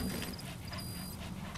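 D-Dog, the canine companion in Metal Gear Solid 5, whimpers softly in a few thin high whines over a steady game background hum, faint and close.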